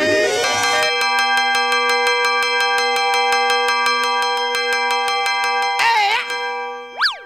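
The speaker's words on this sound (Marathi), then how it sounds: "काय घंटी वाजाडतो रे?" A bright metallic bell rings in rapid, steady repeated strikes for several seconds, then stops with a couple of wobbling, ringing tones at the end.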